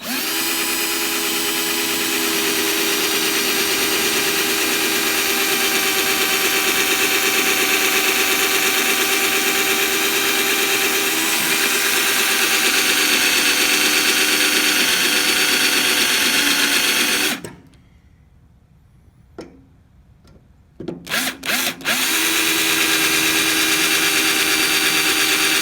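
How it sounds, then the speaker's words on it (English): A power drill bores out spot welds on a Volkswagen shifter hanger, running as a steady, loud, high whine for a long stretch, then cutting out abruptly before a few short restarts. "I'm going to drill these welds out and get me a plate on order"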